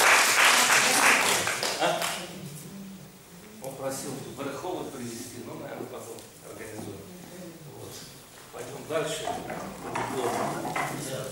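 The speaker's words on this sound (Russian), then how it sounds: "Поздравим его аплодисментами." Audience applause for an award winner at an art festival ceremony in Ashdod, Israel, loud at first and then thinning into scattered clapping, with murmuring voices running underneath.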